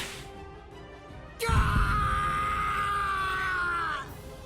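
A man screaming in pain in the Bleach Rebirth of Souls video game: one sudden, loud, sustained anguished cry lasting about two and a half seconds, preceded by a quieter strained sound.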